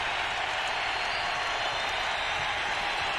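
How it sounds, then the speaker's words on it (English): Dense, steady roar of a home crowd cheering at a 1999 Sacramento Kings playoff game against the Utah Jazz, a broad wash of voices and applause filling the arena without a break. "the crowd's on their feet looking for scoring"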